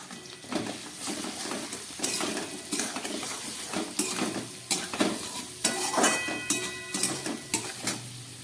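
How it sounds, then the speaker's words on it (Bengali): Vegetables sizzle in a hot pan with turmeric, cumin and chili powder while a utensil stirs and scrapes, giving repeated close clinks and scrapes over a continuous frying hiss. "সবজিগুলোকে ভেজে নিলাম।"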